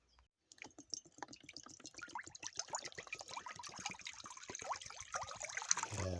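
Water being poured or boiled for instant coffee, with dense trickling and dripping that builds steadily in a close, continuous stream.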